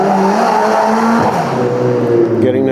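A turbocharged drift car on a track revs hard through clutch kicks, its engine note rising and dropping around a gear change, with tire squeal and skidding running continuously and loudly close by.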